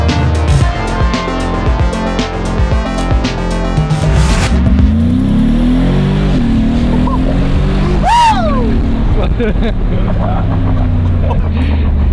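A Mercedes G-Wagon engine roars loudly through a launch control start in the desert, its pitch sweeping up and shifting as the vehicle pulls away, with excited voices talking over it.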